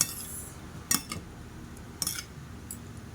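Utensils clinking against a bowl while a vegetable salad with ampalaya is mixed, two or three short bright clatters separated by quiet pauses, close and alone.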